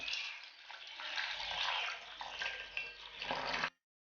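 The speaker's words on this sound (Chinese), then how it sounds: "现在把枇杷花浸泡一下" Water poured from a tap into a bowl to soak dried loquat flowers for a soup, a steady close splashing rush that runs for a few seconds and then stops abruptly.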